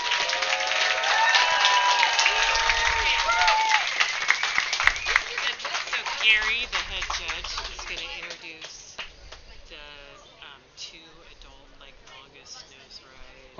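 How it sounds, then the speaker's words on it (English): Crowd at the Cape Kiwanda Longboard Classic surf contest finals applauding sponsors, with dense clapping that thins and fades over several seconds while a voice talks over it. "let's hear a huge round of applause for all of our sponsors"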